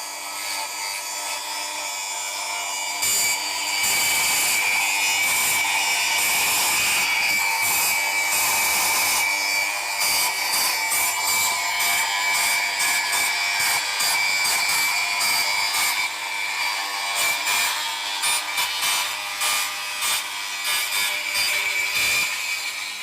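A cordless circular saw on a fully charged 8 amp-hour Forge battery cuts through scrap wood packed with nails and screws, a loud, sustained whine with rough grinding and rattling bursts throughout, no talking.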